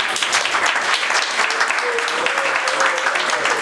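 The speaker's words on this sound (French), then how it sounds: "je propose qu'on l'applaudisse" Audience applause fills a stand-up comedy show, a dense, steady clatter of clapping hands close and loud throughout, with a faint sung voice drifting in underneath.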